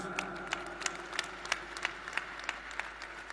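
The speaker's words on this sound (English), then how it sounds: "Clap for Jesus Christ." A church congregation clapping in a steady, regular rhythm during a sermon, sharp claps roughly three per second, over a faint sustained background hum.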